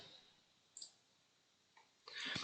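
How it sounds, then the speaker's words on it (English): A computer mouse clicks a download icon, giving two faint, sharp clicks about a second apart in a quiet room, followed by a louder burst of noise at the end. "by clicking on this download algorithm icon here"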